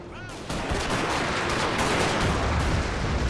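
Rockets and gunfire in the Napoleon: Total War battle, a dense continuous barrage of crackling shots and booming fire after a brief whooshing launch, loud and sustained.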